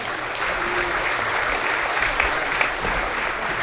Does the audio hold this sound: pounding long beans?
no